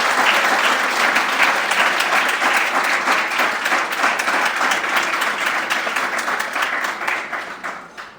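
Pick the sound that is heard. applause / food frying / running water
applause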